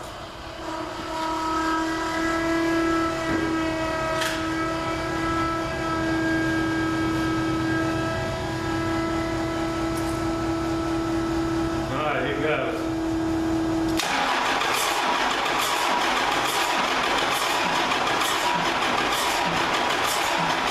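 A Cummins diesel engine in a 1942 Chevy cranking: a steady tonal whine and hum for several seconds, then a sudden loud, rough, broadband roar that continues close up to the end.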